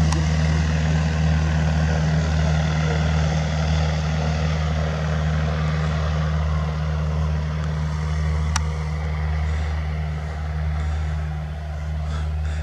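Powered paraglider motor and propeller at Bikovo Airport, a steady loud droning engine hum with a strong low buzz, running continuously and close throughout.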